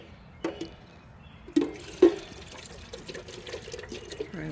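Treated water is poured onto a potted dragon tree in a few short splashes and a soft trickle, fairly close and gentle, with quiet room tone between the pours.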